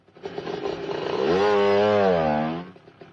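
A motorcycle engine fires up and revs, rising to a steady buzzing drone that swells for a second or two before dropping away, close and loud with no talk.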